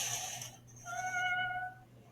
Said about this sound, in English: the family wakes up after hearing what sounds like a cat meowing at their front door